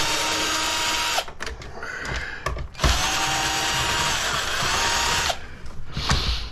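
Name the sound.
power drill removing screws from diesel heater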